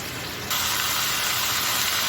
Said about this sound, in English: you want to halfway cook it in the frying pan